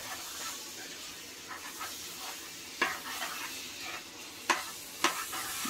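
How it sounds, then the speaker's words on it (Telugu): Onions, chilies and tomatoes fry in a pan for a Hyderabadi-style chicken biryani, giving a steady soft sizzle broken by a few sharp scraping stirs of the spoon. "సో అలా తిప్పి తిప్పి తిప్పి పిప్పి చేసి టమాటాలు అయితే వేసాడు అనమాట దాంట్లో"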